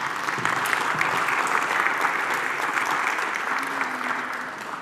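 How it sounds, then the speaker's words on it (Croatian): An audience claps steadily at the Miss Universe Croatia 2022 final, a dense, sustained wash of applause from a large crowd that fades slightly toward the end. "Molit ću da velikim pljeskom pozdravite Veroniku Đerek, koja će se prva izjasniti."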